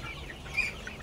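Sonali chickens, 39 days old, in a flock hit by Gumboro disease, cluck softly in a short, quiet stretch with one slightly louder call partway through.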